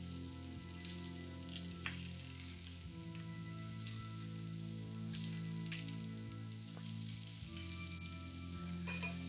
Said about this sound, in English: now I need to add the onions and kind of toss that to coat in our melted butter